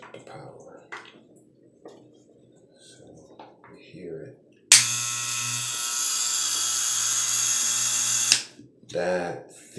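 Electric hair clippers buzz loudly and steadily for about four seconds while their blade is adjusted with a screwdriver, starting abruptly and cutting off sharply, with quiet handling noises and soft talk before and after.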